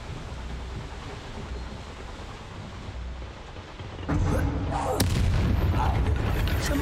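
A Bombarda blasting spell in the Hogwarts Legacy video game erupts as a loud, broadband burst about four seconds in, followed by sustained crackling, rumbling blast noise over steady ambient game sound.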